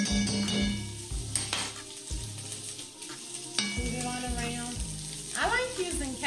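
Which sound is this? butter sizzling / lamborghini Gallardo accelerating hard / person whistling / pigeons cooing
butter sizzling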